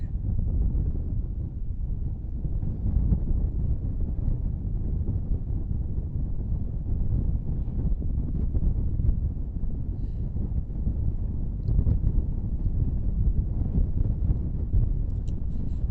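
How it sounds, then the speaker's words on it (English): Wind gusts sweep steadily across an open airfield near aircraft traffic, a continuous low rumbling buffet against the microphone that swells and eases without a break, with no voices. "wind's kicking up again"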